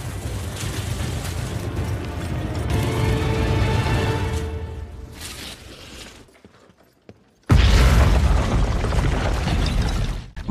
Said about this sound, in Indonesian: mereka pun menggunakan dinamit untuk menjebol pintu besi